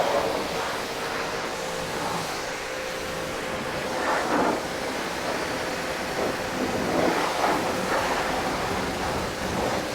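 A steady, close spray of water rinses dirt off a car, a continuous broadband hiss with slight swells as the stream moves across the surfaces.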